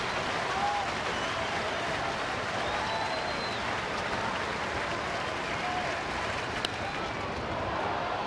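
A baseball stadium crowd claps and cheers on a two-strike pitch during a no-hitter bid. The applause is a steady, broad wash from start to finish, with a faint voice now and then.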